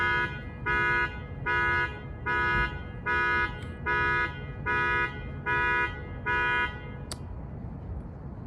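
An overly sensitive car alarm sounds on a street, a regular series of eight loud electronic pulses at about one-second intervals over low traffic noise, then stops.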